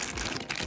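A plastic packet holding a new SATA adapter for 2.5-inch hard drives crinkles up close, a brief, dense rustle with a few sharper crackles and no talk.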